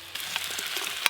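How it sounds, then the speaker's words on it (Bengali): Pre-fried barramundi (bhetki) fish heads go into a pan of spiced oil, giving a brief, steady close-up sizzle with a few light crackles and stirring clatters. "এবার ভেজে রাখা ভেটকি মাছের মাথাগুলো দিয়ে দেবো।"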